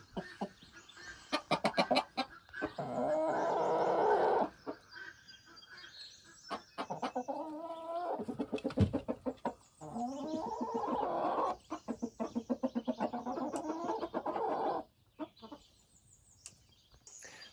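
Several chickens cluck and squawk close by in bursts, with rapid clucking runs and drawn-out cackles, alternating with short quiet pauses.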